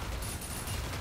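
Gunfire in a video game forms a dense, continuous rumble of rapid shots, steady and moderately loud, with no talking over it.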